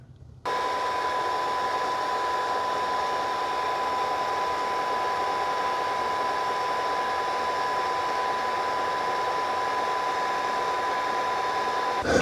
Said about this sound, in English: when I press this button up here, it's going to take solution, squirt it on the roller, and then suck it up into here